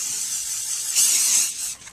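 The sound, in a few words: aerosol spray can spraying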